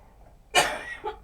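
A single harsh cough close to the microphone, followed by a brief softer throat sound, alone in a quiet room.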